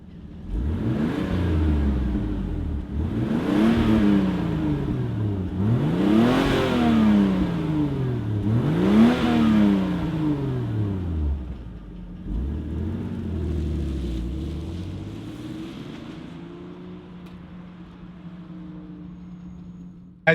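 A 1993 Toyota Supra Mk4 Turbo Premier Edition accelerating hard through repeated gear changes, each rev climbing and dropping in a rising whoosh, then easing to a steadier cruising drone, heard from inside the car.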